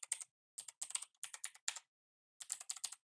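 A password is typed on a computer keyboard in quick bursts of crisp, close keystrokes, broken by a short pause before a final flurry of taps, with no talking.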